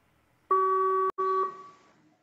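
A mobile phone test call on a website's audio-call feature gives a single steady electronic ringing tone that starts abruptly, cuts out briefly with a click, resumes, then fades, loud and clean with no talking.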